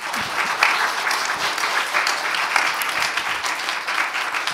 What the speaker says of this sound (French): Je crois qu'on peut applaudir Cécile Massé.